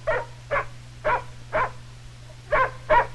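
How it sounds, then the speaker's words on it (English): A farm dog barks six times at close range in an outdoor rural setting, evenly spaced sharp barks with a short pause before the last two, loud against a steady low hum. "suddenly the farmer's dog came running toward him."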